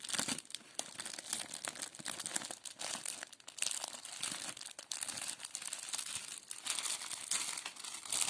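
A newly bought lilac headscarf is unwrapped from plastic packaging, giving continuous close crinkling and crackling with some tearing, fairly loud and steady, with no talk.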